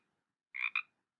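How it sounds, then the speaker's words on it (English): A single two-part Pacific chorus frog croak, a quick raspy double note in otherwise quiet surroundings. "That's the word scientists use to describe the call of the Pacific chorus frog"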